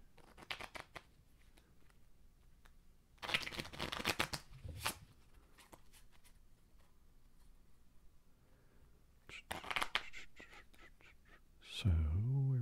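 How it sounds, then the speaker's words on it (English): A deck of playing cards is shuffled during a quiet solitaire game, with two bursts of riffling several seconds apart, soft and close, in a hushed room. "Shuffle one more time."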